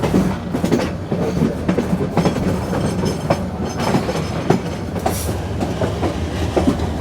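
The Sonar Bangla Express, a luxury train from Dhaka's Kamalapur station to Chattogram, runs loudly on the rails, its wheels clattering in a steady clickety-clack rhythm with metallic squeals and rumble, heard close from inside or beside the carriages.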